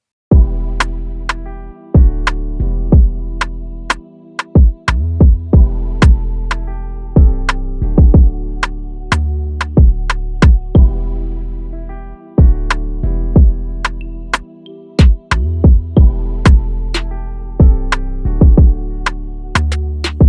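RnB dancehall beat with piano, drums and bass playing together: steady punchy kicks and sharp hits over sustained piano chords, loud and continuous with brief drop-outs, no voices.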